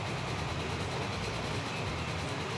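A steam train in the Transport Fever game runs steadily at speed through the Great Lakes region of Canada, a continuous dense rolling rumble with no breaks.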